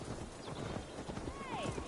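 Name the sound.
horse hooves clip-clopping, from video game Assassin's Creed Valhalla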